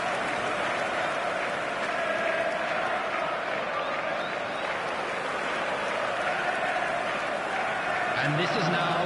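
A stadium crowd applauds in the eFootball video game on PS5. It makes a steady, dense roar of clapping and crowd noise for the whole stretch, while a commentator talks over it.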